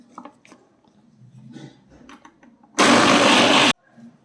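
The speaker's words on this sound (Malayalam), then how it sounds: "ഇനി നമുക്കിതൊന്ന് ഗ്രൈൻഡ് ചെയ്തെടുക്കാം." A mixer grinder jar whirs loudly for about a second as it grinds a curry masala mix, a dense roaring burst that follows quiet kitchen handling noises and then stops abruptly.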